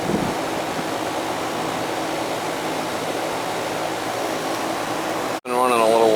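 A Goodman central air conditioning system, installed seven years ago and running during an annual check, gives a steady, loud, even whooshing roar. It cuts out briefly near the end, and a voice follows.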